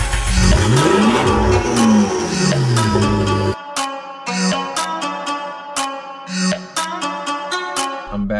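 A 2016 Nissan GTR tuned to about 1200 wheel horsepower, revving loudly with sharp rising and falling sweeps, then cutting to a quieter idle broken by a series of sharp pops and bursts.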